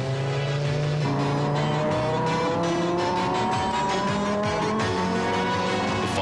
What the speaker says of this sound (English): Let's ride with Hans Stuck as he makes his qualifying run.